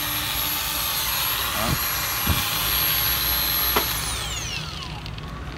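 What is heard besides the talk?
Milwaukee cordless angle grinder with 100 mm disc running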